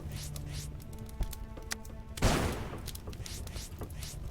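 A landmine explosion in the Starbound video game on a scorched world: a single loud, broad blast bursts out partway through and decays over about a second, preceded by sharper small pops over a low steady background hum.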